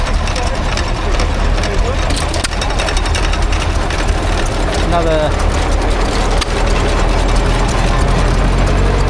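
A Lister L-type stationary engine drives a Bamford's mill grinding at an outdoor rural show, a loud steady mechanical chugging and clattering with a continuous low drone, close up and unbroken throughout.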